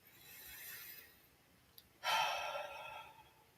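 Soft, close breathing during a guided meditation: a slow inhale, a pause, then a stronger audible exhale, quiet and without talk.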